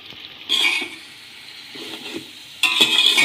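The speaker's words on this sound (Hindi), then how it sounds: "अच्छे तरीके से मिक्स करके आपने इस चिकन को भूनना है।" Chicken browning in a pan with large tomatoes, Kashmiri red chilli and salt, heard as stirring and sizzling that swells in two louder bursts with a quieter scraping stretch between.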